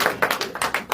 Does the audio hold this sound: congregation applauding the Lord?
yes